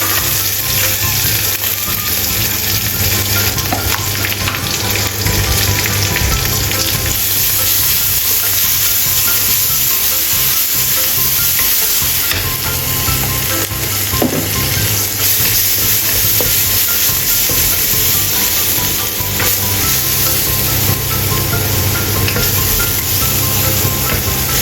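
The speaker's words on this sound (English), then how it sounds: "Stir-fry condiments until fragrant." Condiments stir-fried in a hot wok for a vegan peppercorn tofu and king oyster mushroom dish, a loud, steady sizzle with constant scraping and tossing throughout, no talking.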